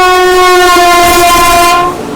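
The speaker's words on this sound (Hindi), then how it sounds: "गुड्स ट्रेन को पास किया जा रहा है।" Loud, steady multi-tone horn of the Jnaneswari Super Deluxe Express, an Indian Railways train, sounding for about two seconds as it passes a goods train on the SECR zone, then cutting off over continuing rail rumble.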